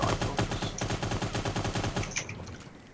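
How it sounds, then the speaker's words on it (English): Rapid automatic gunfire in the shooter game Cyber Hunter, a loud, evenly spaced burst of about twenty shots that tails off near the end. "Who are you shooting at?"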